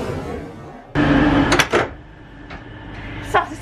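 A slam door on an Intercity 125 Mark 3 coach swings shut with a sharp, close thud and rattle, followed by a couple of smaller knocks and clicks in a quiet station setting.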